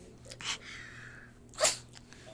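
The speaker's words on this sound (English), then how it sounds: "Oh my god, she's sneezing." A dog sneezes twice, short sharp bursts about a second apart, heard close over a low steady background hum.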